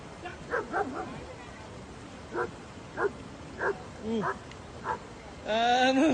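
A German Shepherd gives a string of short, sharp barks and yips at a tiger at irregular intervals, fairly close, ending in a higher whining cry.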